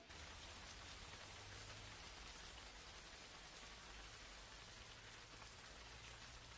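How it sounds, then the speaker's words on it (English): Heavy rainfall pours down at an archaeological dig in Africa, a dense, even hiss of countless drops striking the ground, steady throughout and quiet in level, with no voices. "Heavy rainfall brings a halt to the digging."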